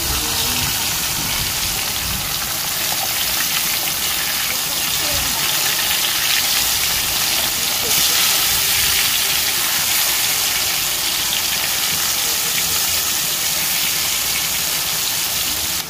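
Fish frying in hot oil makes a loud, constant spattering hiss, like heavy rain, that stays close and unbroken throughout.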